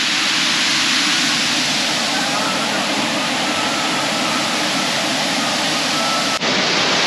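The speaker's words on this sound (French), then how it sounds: "on quitte cette super cascade" A powerful waterfall in Mai Chau, Vietnam roars as a loud, constant wash of falling water, close and unbroken for the whole stretch, with no clear talk above it.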